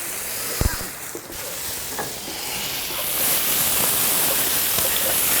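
Small cut pieces of prosciutto di Parma toast in a pan with a steady close sizzle that swells louder in the second half, with a few light knocks and stirring clicks near the start and no talk.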